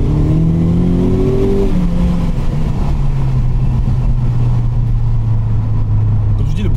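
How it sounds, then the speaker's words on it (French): From inside the cabin, a Renault Clio 4 RS engine revs up and then settles, in normal rather than sport mode, loud and close, its tone climbing and then easing into a long steady drone. "on va vous faire écouter le moteur en étant à l'intérieur tranquillement"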